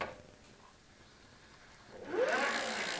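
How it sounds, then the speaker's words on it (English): An e-bike hub motor kicking in from a pedal sensor signal, rising into a whirring whine after a quiet stretch, close and growing louder toward the end. "So the motor is definitely picking up some signal from the pedal"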